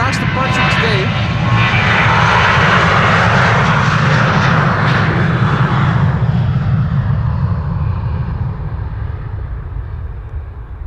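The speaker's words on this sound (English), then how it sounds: "the 7478 is going to be the last departure today" A Boeing 747-8 jet departs Amsterdam Schiphol with a loud, close engine roar that builds early, peaks, then slowly fades as it climbs away, with a voice briefly heard at the start.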